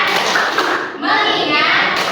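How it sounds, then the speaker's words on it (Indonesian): A classroom of children chanting the 'tepuk fokus' focus cheer in unison, with rhythmic hand claps and thumps mixed into the steady, close group voices throughout. "Tepuk fokus"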